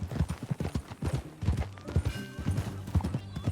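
Hooves of a horse at a steady trot clip-clop close by in a Western open-world video game, a quick even rhythm with a faint whinny and a little game ambience behind.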